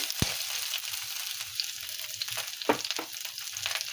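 Chilies and garlic fry in a little white oil, giving a steady close sizzle broken by a few sharp crackles and stirring scrapes.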